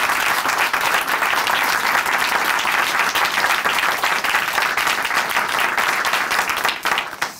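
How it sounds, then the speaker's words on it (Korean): An audience in a church broadcast studio applauds steadily, a dense, even wash of many hands clapping that holds for several seconds and tapers off at the end. "우리 이덕기 형제님께 다시 한번 큰 박수 보내드릴게요"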